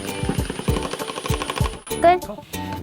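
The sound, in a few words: impact driver driving a pocket hole screw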